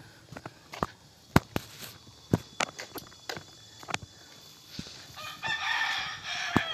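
Chickens and roosters at a chicken farm in hot weather, sharp intermittent clucks and calls spread over a quiet outdoor background, with a brief burst of broader rustling noise toward the end.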